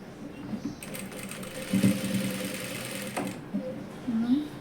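A sewing machine stitches elastic onto palazzo pants in a short run of rapid whirring, with someone speaking over and around it.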